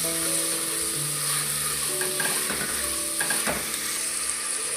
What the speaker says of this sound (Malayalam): 1 മിനിറ്റ് നമുക്കിത് ഒന്ന് ഇളക്കി യോജിപ്പിക്കാം